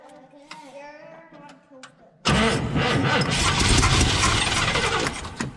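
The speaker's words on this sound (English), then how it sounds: "I'm gonna have my wife go ahead and try to start it." A Chevrolet El Camino engine cranks with a rapid rhythmic churning after a brief spoken exchange, the starter grinding loudly and steadily without the engine catching.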